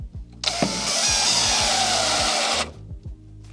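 A power tool runs through wood, cutting end grain over a sacrificial plywood backer on a homemade square, a loud steady whine lasting about two seconds with quieter clicks and knocks before and after.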